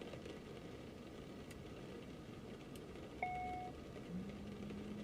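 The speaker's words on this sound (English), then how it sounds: "Confirm start engine number 1." A jet engine spools up on an Aerobask Phenom 300 in the X-Plane 11 flight simulator: a steady low rumble, then a thin tone cuts in partway through and a rising whine builds toward the end.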